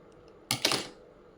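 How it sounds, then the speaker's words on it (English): Scissors snip off the yarn ends of a crocheted evil eye bag in one quick, close double-click cut, crisp and brief against near silence. "Just grab your scissor and then cut off the edges"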